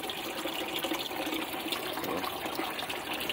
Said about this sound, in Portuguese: O meu filtro funcionando perfeitamente.